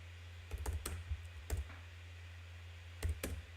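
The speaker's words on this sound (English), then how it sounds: "We're typing it in." Quiet computer keyboard typing comes in short bursts of clicks, a few keys at a time separated by pauses, over a low steady hum.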